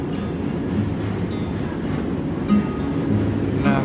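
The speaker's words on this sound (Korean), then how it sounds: "그때 마침 지하철 한 대가 맞은편에서 오고 있었어요." A New York City subway train arrives at night, its low rumble steady and fairly loud throughout, with a few faint metallic squeaks and rattles and no one speaking.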